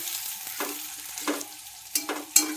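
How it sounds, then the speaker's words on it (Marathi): Cauliflower and onion sauté in a pan with a steady sizzle, broken by three or four scraping stirs at regular intervals, close and fairly loud, with no one speaking. "फ्लावर कांदा छान परतून घेऊया"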